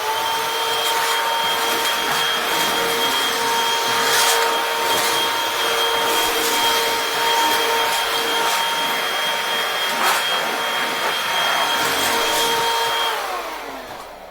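A Bosch EasyVac 12 cordless stick vacuum cleaner runs steadily at close range, a continuous high motor whine with airflow hiss and a faint change in pitch as it moves, fading slightly at the end.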